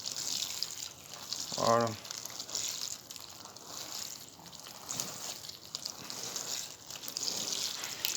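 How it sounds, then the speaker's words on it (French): A watering can fitted with a small rose sprinkles water over tomato seedlings in potting compost, giving a steady, soft shower-like hiss throughout, and a voice speaks briefly near the start. "je vais les arroser avec un arrosoir et une petite pomme."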